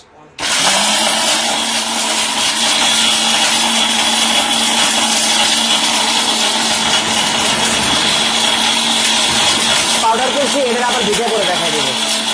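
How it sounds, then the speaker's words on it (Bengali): A steel-bush kitchen blender switches on abruptly and runs at a loud, steady high whine with a constant motor hum, its pitch wavering slightly near the end as the load shifts. "স্টিল বুশের ব্লেন্ডার নরমাল বুশের ব্লেন্ডার শেষ"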